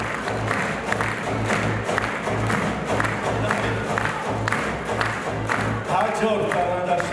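An audience at a cultural organization's 15th anniversary concert applauds an announced performer, with dense steady clapping and some cheering throughout, loud and close, a rhythmic beat underneath.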